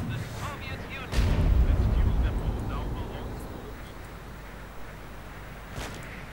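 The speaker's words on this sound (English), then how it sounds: "several anti-tank guns, or field guns as they technically were, since they could also function as artillery." Anti-tank field guns firing in the Company of Heroes 2 video game, one heavy booming shot followed by a rumbling tail and a fainter blast near the end over game battle noise.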